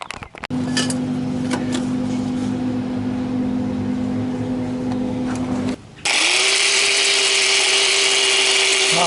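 A cheap Harbor Freight angle grinder runs at a loud steady whine, then abruptly cuts out and gives way to a brighter hissing, rushing sound as it burns and smokes.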